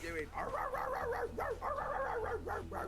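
Dogs bark and yap again and again in a Snapchat video played back on a phone, a steady run of sharp barks with a thin, replayed quality, and voices talk over them.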